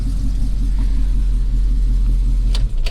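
A car idles close by with a low, steady rumbling drone and a faint rhythmic throb. Near the end there is a brief sharp disturbance, but the engine does not clearly cut out.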